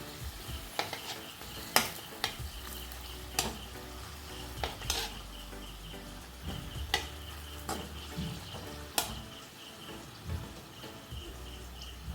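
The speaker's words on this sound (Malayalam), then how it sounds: "നമ്മൾ അതിലിട്ടിട്ടൊന്ന് പൊരിച്ചെടുക്കാം. പപ്പടമായ കാരണം പെട്ടെന്ന് വറുത്ത് കിട്ടും." Papad samosas deep-frying in hot oil, a soft steady bubbling hiss with occasional sharp clinks of a utensil against the pan, faint and close, no speech.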